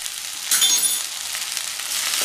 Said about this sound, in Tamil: வதக்கி விட்டுட்டு அப்புறம் கொஞ்சம் சேர்த்துக்கலாம். இந்த எண்ணெயிலேயே கொஞ்சம் வதங்கும்